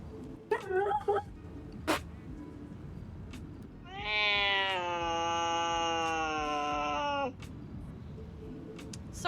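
A small kitten meows once in a long, drawn-out cry, loud and close, with a shorter squeaky call and a few faint knocks earlier in a quiet room.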